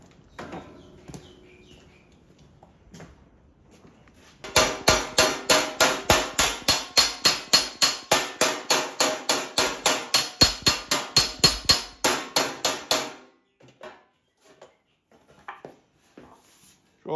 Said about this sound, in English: I'll just hammer that flat and we'll start again.